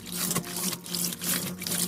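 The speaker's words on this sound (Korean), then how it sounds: "재빠르게 한 번 더 씻겠습니다" Summer napa cabbage is rinsed quickly in water for kimchi, with running tap water and sloshing splashes coming in short uneven bursts close by.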